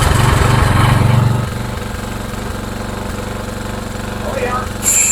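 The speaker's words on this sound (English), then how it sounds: "This way you can make sure that the carburetor still runs the engine." A small engine, its carburetor freshly primed, fires up and runs close by: a loud rough burst for the first second, then a steady, slightly slow idle-like drone.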